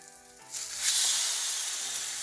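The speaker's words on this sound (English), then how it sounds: "I'm gonna just put it over here on the griddle" French toast, bread pressed into an egg mixture, is laid on a hot griddle and starts sizzling: a sudden, steady frying hiss follows a quiet start, close and even, with no talk.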